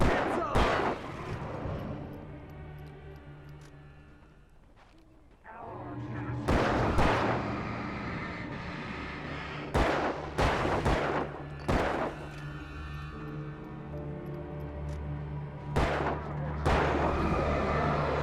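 Gunfire in the video game Alan Wake: repeated sharp shots in bursts over a droning game soundscape, with a brief lull before the shooting resumes.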